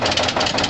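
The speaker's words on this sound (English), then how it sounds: "12-volt turbo sounds like it's struggling to fire on all cylinders during this cold start." A 12-volt turbo diesel truck engine labors through a cold start on an icy road, giving a loud, steady, rough knocking rumble with uneven pulsing throughout the short stretch.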